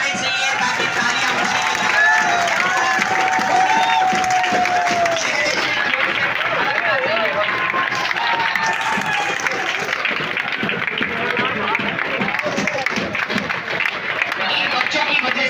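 A crowd's applause for children at a gathering, sustained dense clapping with crowd noise throughout, fairly loud and steady.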